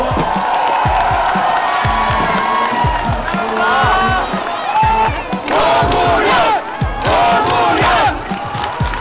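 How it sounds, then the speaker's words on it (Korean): A large outdoor crowd at a gathering with former President Roh Moo-hyun claps and cheers loudly, with shouts and whoops rising in waves over continuous applause. "여러분 다시 한번 큰 박수 보내주십시오"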